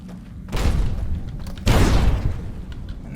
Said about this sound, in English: And there's the second explosion.